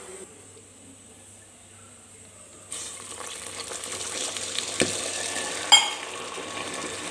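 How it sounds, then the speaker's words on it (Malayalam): A cup of water poured into melted sugar in a pan for nannari syrup, quiet at first, then a sudden hissing sizzle that keeps bubbling steadily, with a couple of sharp clinks near the end. "നമ്മുടെ പഞ്ചസാര നല്ലോണം മെൽറ്റായി വന്നിട്ടുണ്ട് ഇനി ഇതിലേക്ക് നമുക്ക് ഒരു കപ്പ് വെള്ളം ഒഴിച്ചു കൊടുക്കാം"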